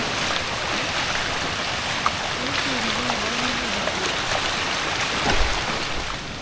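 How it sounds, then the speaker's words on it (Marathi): A steady, broad rush of flowing water from Dudhsagar Waterfall swollen by heavy rain fills the whole stretch, with no clear break or change. "जास्त पाऊस वाढल्यावर असा पाण्याचा प्रवाह वाढतो बघा"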